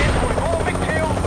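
A Hind attack helicopter arrives in the Black Ops video game with a loud, steady rotor roar filling the whole moment, close and dominant.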